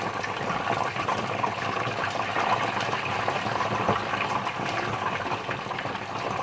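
Diced potato cubes frying in hot oil give a steady, dense sizzle and bubbling hiss that holds evenly from start to finish, close and continuous with no talk over it.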